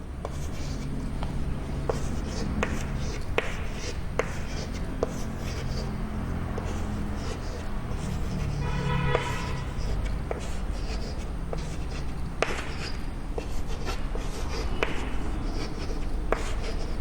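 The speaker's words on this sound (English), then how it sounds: "Please draw along with me." Pen strokes scratch steadily across paper while a diagram of tube-like reproductive structures is drawn, with soft rubbing and brief tapping in a quiet room and no talk.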